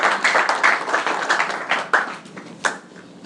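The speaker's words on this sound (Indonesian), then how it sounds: "Tepuk tangan buat Tuhan Yesus." A church congregation claps hands after a prayer, with scattered uneven claps that thin out and fade over a few seconds and no talk over them.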